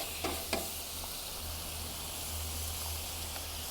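Raw shrimp sizzle on a flat-top griddle for jambalaya, a steady broadband hiss throughout with a couple of sharp clicks near the start, close and fairly quiet with no talking.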